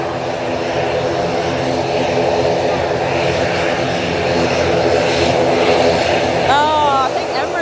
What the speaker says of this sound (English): there's a Ryanair that will be departing